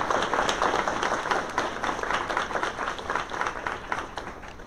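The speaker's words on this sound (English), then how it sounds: "Can you help me give a big round of applause to our friends from Atlanta?" Audience applause fills a hall at an equity summit in Atlanta, steady dense clapping held at an even level throughout with no speech over it.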